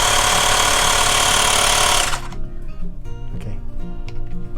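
A Xiaomi Mijia portable digital air pump runs with a loud, steady buzzing drone for about two seconds, then cuts off abruptly, leaving faint clicks and low background hum.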